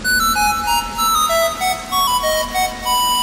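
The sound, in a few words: phone ringtone of incoming call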